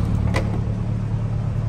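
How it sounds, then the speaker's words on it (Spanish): A Lamborghini Urus engine fires up with a brief sharp burst, then settles into a loud, deep, steady rumble close by. "Ahí el viejo David acaba de prender el carro y ¡wow!"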